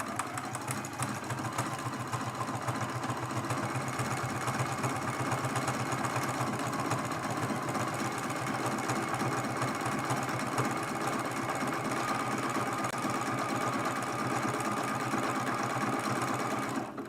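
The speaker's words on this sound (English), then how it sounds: "I do like to sometimes do a little back stitch there just to help lock it." A sewing machine runs continuously while back-stitching a quilted leaf on a mug rug, a steady, fast mechanical whir with rapid needle chatter, close and even in level throughout.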